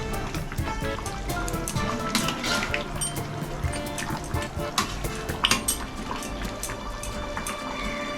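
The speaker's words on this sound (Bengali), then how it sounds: "লাড়া দিয়ে দিই।" A spoon stirs Bengali-style chicken curry with potatoes and garam masala in a cooking pan, giving a continuous, close, busy scraping and wet sizzling texture with scattered light clinks throughout.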